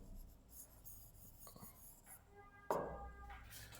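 A pen or chalk scratches and taps across a surface during a math lesson on integers, faint close strokes with brief pauses and one louder stroke.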